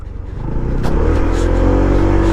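Honda ADV160 scooter engine while riding, a close, rising motor drone that builds and then holds steady with a buzzy tone, alone without talk.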